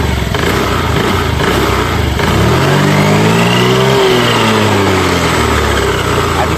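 A Honda Activa 6G scooter engine, freshly repaired with clutch parts refitted, runs loud and close, rising in a revving sweep that peaks mid-clip and then eases back toward idle.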